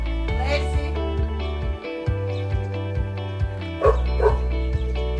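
An American Staffordshire Terrier barks in short bursts during an obedience training session, over a steady tonal hum.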